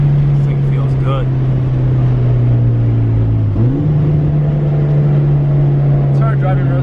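Mitsubishi Evo 5 driving at speed, a loud, steady engine drone with a brief dip and shift in pitch midway like a gear change, with tyre and road noise beneath and a voice speaking over it.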